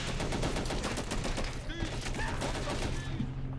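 Rapid bursts of gunfire crackle through a World War II video game battle, with a PIAT anti-tank shot among dense, overlapping shots and a few faint tonal chirps, while a commentator talks over the steady din.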